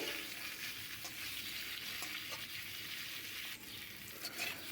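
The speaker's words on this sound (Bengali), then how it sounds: "ওই তেলের মধ্যেই সেদ্ধ করে রাখা ইঁচড়টা ভেজে নেব" Boiled green jackfruit pieces frying in oil over a high flame, giving a dense, steady hiss of sizzling with faint stirring knocks.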